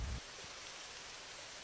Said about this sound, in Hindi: अरे नहीं, बारिश तो अब तेज हो रही है।